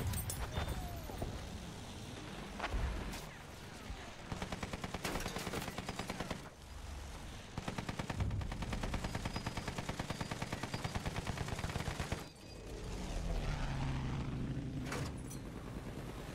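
Rapid sustained bursts from an LMG 08 machine gun in the first-person shooter Battlefield 1, firing in long rattling strings with brief pauses, loud and close over background battle noise.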